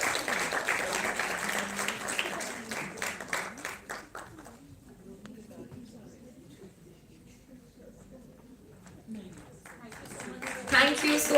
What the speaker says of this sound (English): Mr. Rakesh Gupta, huge round of applause.